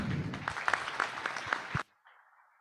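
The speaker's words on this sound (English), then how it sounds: "Give another round of applause." Applause from a conference audience after a technical talk, a short burst of clapping with a few distinct claps standing out, ending abruptly, then faint background murmur.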